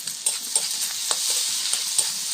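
Chopped capsicum and cabbage crackle and hiss in a hot pan as they are stir-fried for chowmein, with a steady sizzle broken by repeated scraping stir strokes, close and fairly loud.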